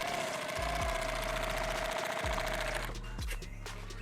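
A sewing machine stitches a rifle case in a loud, continuous rapid whir, its motor hum steady for most of the run before easing slightly near the end.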